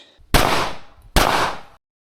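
Two sharp, loud gunshots from an open pistol fitted with a compensator ring out about a second apart outdoors, each with a long decaying echo and no voices.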